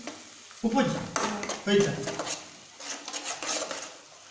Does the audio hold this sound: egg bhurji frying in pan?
yes